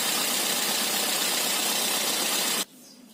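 A Toyota Etios sedan engine runs at a steady idle with a broad, constant hum, then cuts off abruptly near the end, leaving near silence.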